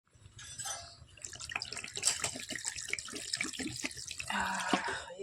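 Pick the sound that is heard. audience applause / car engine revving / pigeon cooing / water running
water running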